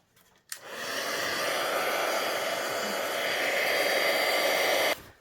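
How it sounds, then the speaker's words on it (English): Heat tool melting embossing powder on a stamped snowflake card, a steady loud blowing hiss that switches on abruptly, runs continuously for about four and a half seconds and cuts off cleanly. "So time for the heat tool."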